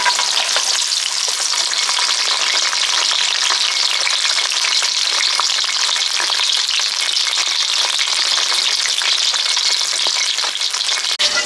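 Pointed gourd (potol) pieces frying in hot oil without spices for a vegetarian potato-and-potol curry, giving a steady, loud, close sizzle with crackling pops throughout and no talking.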